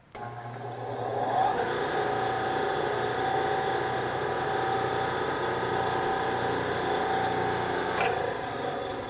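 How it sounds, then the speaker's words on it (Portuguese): Einhell TC-SB 200 bench band saw with its motor running idle, no wood being cut: a steady, even mechanical hum with a faint whine, starting abruptly and holding constant, close by. "vamos ligar a máquina para aferir o nível de ruído sem cortar madeira"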